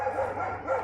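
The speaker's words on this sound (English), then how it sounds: "I apologize for the barking in the background if it sets your dogs off." Several dogs bark in the background, steady muffled yips and barks running through the whole moment at a moderate distance, with no talk over them.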